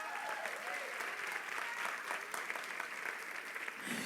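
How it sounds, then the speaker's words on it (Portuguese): A church congregation applauding loudly during a service, a broad wash of many hands clapping continuously at an even level, with faint voices underneath before it tapers at the end. "aplauda forte."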